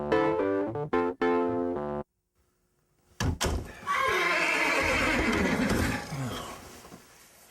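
A horse whinnies in a loud, shaky burst, followed by a heavy thunk and a clatter as a second long neigh rings out nearby.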